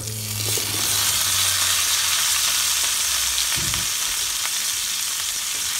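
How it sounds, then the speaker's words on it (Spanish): Baby potatoes frying in bacon fat sizzle loudly and continuously in a pan, with a brief stirring scrape partway through and no talking. "Esta misma grasita vamos a agregar lo que son nuestras papas cambray."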